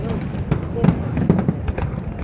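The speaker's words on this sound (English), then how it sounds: "firework." Macy's fireworks pop and crackle in several quick bursts over a noisy crowd, with voices chattering in the background.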